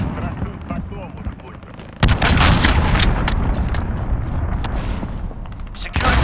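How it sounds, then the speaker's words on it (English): A cruise missile strike in Call of Duty Modern Warfare lands with a sudden loud, booming blast that rolls on into sustained rumble, with scattered gunfire cracks before and after and voices talking in the mix. "Allied cruise missile launched."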